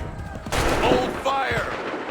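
Musket volley gunfire in the video game Assassin's Creed III, a loud burst of overlapping shots starting partway through, followed by a second ragged volley, with shouted voices mixed in.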